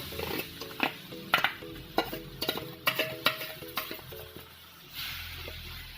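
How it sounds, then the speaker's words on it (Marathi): Grated raw mango tossed into ghee in a kadhai and stirred, a run of sharp metallic spoon scrapes and clinks against the pan at an irregular rhythm over a faint sizzle, close and unaccompanied by talk. "आता आपण कैरी किसली ती टाकू"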